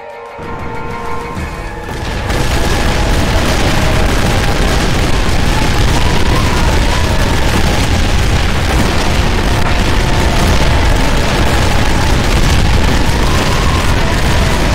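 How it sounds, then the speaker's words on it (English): Rocket artillery in a war video game fires and detonates, opening with a brief quieter moment before a massive sustained roar of launches and overlapping explosions that stays loud and dense to the end, with no speech. "Moving to our last indirect weapon, rocket artillery, which is just a bunch of rockets strapped on this pistol"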